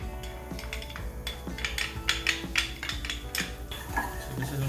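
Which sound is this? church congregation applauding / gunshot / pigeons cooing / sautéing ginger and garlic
sautéing ginger and garlic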